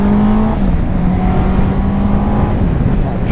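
A motorcycle ridden on roads around San Rafael, Santa Inés and San Mateo on Ibiza: a loud, steady engine drone with a low hum and rushing wind, heard close up for the whole stretch.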